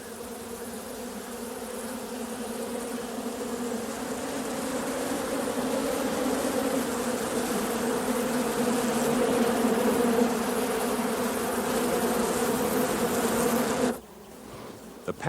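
A swarming beehive with two queens in a Louisiana swamp gives a dense, close, steady buzzing drone that swells slightly, then cuts off abruptly near the end.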